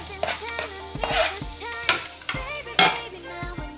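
Onions and garlic fry in vegetable fat in a pan with a busy sizzle, punctuated by repeated stirring scrapes and clatters close by.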